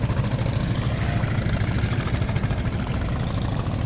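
A trawler's engine hums steadily as the boat carries a load of cows along the Kaliganga river at Jamsha, a loud, continuous low drone with no talk over it.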